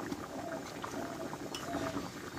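A potato and pointed gourd curry with poppy seeds, ghee and kasuri methi simmers in a pan, a steady soft bubbling that runs evenly throughout at low level.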